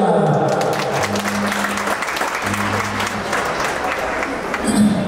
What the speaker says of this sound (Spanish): Fuerte los aplausos para ella